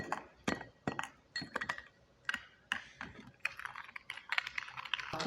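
A spoon stirs instant coffee powder and sugar in a cup, making a series of close, sharp clinks and scrapes in uneven bursts against a quiet background.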